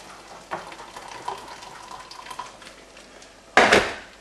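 A spoon scrapes and clinks against an empty tomato tin while a stock cube is stirred into boiling water with the tomato remains, liquid sloshing, ending in a louder clatter of metal.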